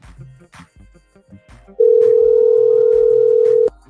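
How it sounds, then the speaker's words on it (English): A phone call produces a steady, loud electronic tone lasting about two seconds, preceded by brief low murmuring and clicks. "Y'all let me know if y'all can hear this phone ringing."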